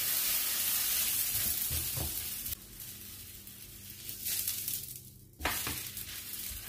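Flatbread dough made from semolina and whole wheat cooking on a hot pan, a steady close sizzle that drops off partway, then returns with soft handling knocks and scrapes; no speech.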